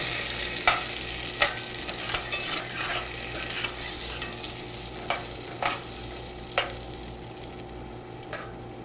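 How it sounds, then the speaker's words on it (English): Peaches with brown sugar sizzle steadily in a pan while a spoon scrapes and stirs, giving sharp, regular clacks about once a second over the continuous frying hiss. "I'm going to put the brown sugar in."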